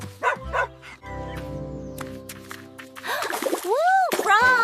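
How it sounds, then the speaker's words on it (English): Friendly dogs barking in a short burst of several woofs, with music and a cartoonish voice sliding in and out around them. "Friendly dogs."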